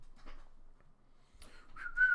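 A person whistles a series of rising and falling chirps and warbles in imitation of an R2 astromech droid during a Kingdom Hearts tabletop role-playing session, brief bursts that grow louder toward the end.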